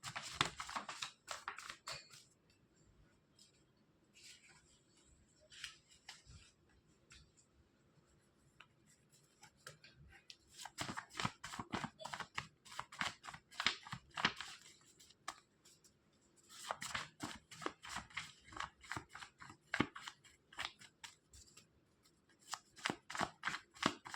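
Playing cards being shuffled close up, in repeated quiet bursts of rapid riffling and flicking separated by short pauses, with no talking.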